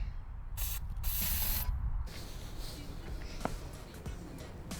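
Short bursts of spray hiss from a can of silly string, two quick blasts then a longer one, followed by faint rustling and clicks.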